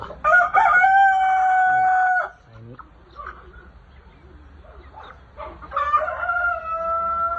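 Australorp chickens crow loudly and close by, a long drawn-out cock-a-doodle-doo followed by softer clucks and scattered calls, then a second crow beginning near the end, with some quiet background talk.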